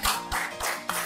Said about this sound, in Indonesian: beri tepuk tangan kepada teman kalian kelompok 2